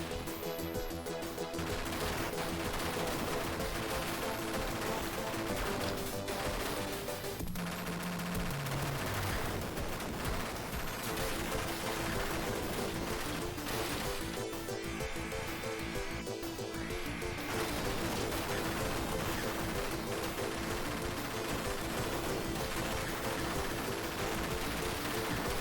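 Weapon fire from the video game Ultracore, running on an Analogue Mega SG Sega Genesis console, makes dense, relentless bursts of shots and blasts layered over loud continuous game music, with no pauses throughout.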